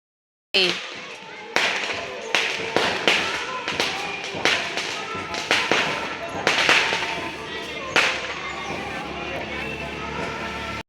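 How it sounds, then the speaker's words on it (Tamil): Diwali firecrackers burst in sharp, irregular cracks over a continuous crackling rumble, some pops loud and close, others farther off. "பட்டாசு வெடிக்கிற சத்தம் கேட்குதுங்களா"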